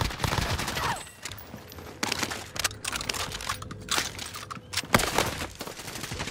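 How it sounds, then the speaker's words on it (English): Gunfire crackles through a Call of Duty Warzone match, sharp shots and short bursts recurring irregularly, loud and close, with some quieter distant shots in between. "We're taking fire."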